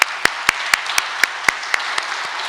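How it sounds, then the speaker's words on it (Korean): Clapping at a church founding service in Seoul comes as sharp, regularly spaced claps, roughly four per second, standing out crisply above a low background hum of the room. "인사할 때 큰 박수로 격려해 주시고 환영해 주시기를 바랍니다"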